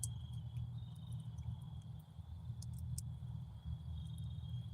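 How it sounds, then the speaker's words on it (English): Crickets chirp outdoors on a quiet night, a faint steady high trill with a few scattered clicks over a low rumbling background and no talk. "I'm just glad the crickets and shit are out still."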